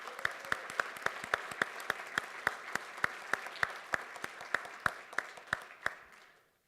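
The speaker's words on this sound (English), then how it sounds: "please join me with a warm round of applause" Applause greets a guest speaker at a UX speaker series evening: quiet, evenly spaced sharp claps in a steady rhythm for several seconds, fading away at the end.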